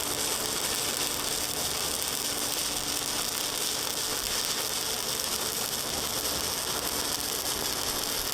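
Vertical-up arc welding with a 7018 stick rod, a steady, dense crackling buzz that runs unbroken and even in loudness from start to finish, with no voices.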